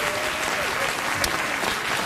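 A television talk show studio audience applauds in a dense, steady burst of clapping that runs for about two seconds.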